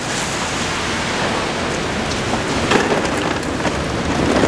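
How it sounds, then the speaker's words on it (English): Steady rain pours outdoors at a cruise ship boarding area, a dense, continuous hiss of drops on surfaces with a few louder splashes, heard alone and close with no voices. "It's a beautiful rainy day here."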